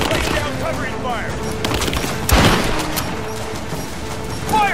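Sustained gunfire in the video game Rise of the Tomb Raider, with rapid bursts and a louder close shot midway, crackling continuously under a busy firefight.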